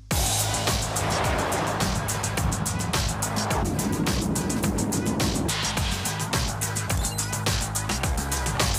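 A Kia EV9 GT-Line 2024 electric SUV running an obstacle avoidance manoeuvre at 90 km/h, a loud continuous rush of tyre and wind noise with rhythmic thumping and strain, heard from close by.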